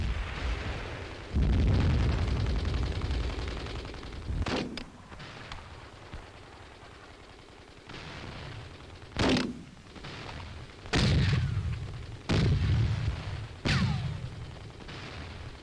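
Repeated heavy mortar blasts and booming shots, several sharp bursts spaced irregularly, some close and loud, with rumbling between, during an infantry attack on a village.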